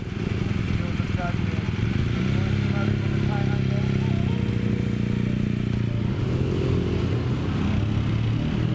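A BMW R1200 GS motorcycle is ridden on the road in Colombia, giving a steady, continuous low engine drone with road rumble that stays loud and even throughout.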